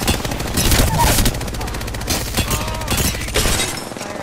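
Video game gunfire crackles in rapid, loud automatic bursts close by, with sharp repeated shots packed tightly together over a busy mix of other game sounds and some voice chatter.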